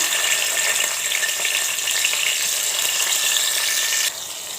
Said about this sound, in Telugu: ఇప్పుడు ఆయిల్ వేడైన తర్వాత ఇందులో పచ్చిమిర్చి వేద్దాము.